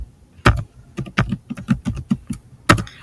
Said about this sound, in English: So if I type in propaganda, I get the definition of propaganda.